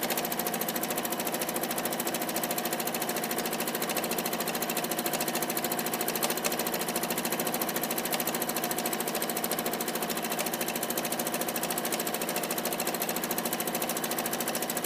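A sewing machine runs steadily while free-motion quilting pebble circles, a fast, even mechanical whir with a rapid stitching pulse that holds at constant loudness for the whole stretch with no talk.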